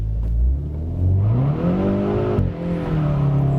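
2022 Hyundai Veloster N launching from a standstill on a wet road with wheelspin: the engine rises from a low rumble into a climbing, loud rev, briefly drops, then pulls up again, close and without talk.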